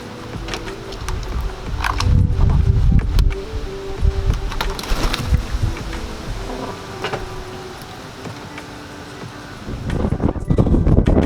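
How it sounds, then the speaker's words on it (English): Strong wind blows outdoors on a cold homestead, a steady rushing roar with heavy buffeting gusts against the microphone, loudest early and again near the end. "It's super windy,"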